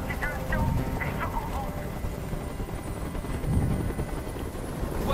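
Helicopter rotor thumping from the video game Detroit: Become Human, a steady mid-level chop that continues under someone talking.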